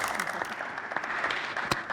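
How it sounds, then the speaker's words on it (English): An audience at a founders' storytelling panel breaks into clapping, a dense burst of many hands close by with a few sharper individual claps standing out, lasting under two seconds. "You can clap, you can clap."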